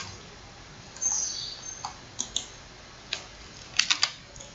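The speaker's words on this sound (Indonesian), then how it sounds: "Contoh di sini saya tekan tombol Ctrl G" Soft keystrokes on a computer keyboard as Ctrl G is pressed, a few light clicks spread out and then a quick cluster near the end, faint against quiet room hiss.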